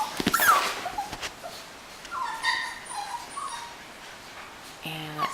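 F1B tiny toy and micro mini Goldendoodle puppies whimper and yip in short, high-pitched bursts, close by, with a few scattered cries and a sustained whine near the end.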